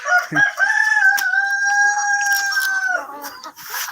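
A rooster on a farm gives one long, loud, clear crow lasting close to three seconds, with a few short clucks and rustles around it.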